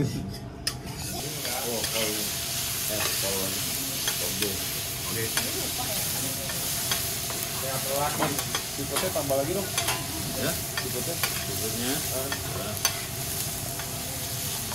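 Food, including shrimp, sizzles and hisses steadily on a hot teppanyaki griddle, with occasional scraping stirs and faint voices in the background.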